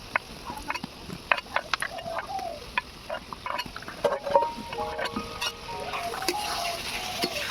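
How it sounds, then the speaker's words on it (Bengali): Potatoes tossed and frying in a pan for khichuri, giving a soft sizzle with scattered scraping and tapping of a spoon, close and fairly quiet, building slightly toward the end. "আলুগুলো দিয়ে এবারে আমি ভালো করে একটু কষিয়ে নেবো"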